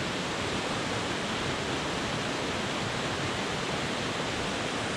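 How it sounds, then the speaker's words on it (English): A waterfall in a mountain valley on Ruapehu pours in a steady, dense broadband roar, loud and unbroken throughout with no other sounds rising above it. "So here's another great waterfall."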